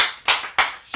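Congregation clapping in a church service acclaiming Jesus Christ: three sharp, close, loud hand claps in steady rhythm.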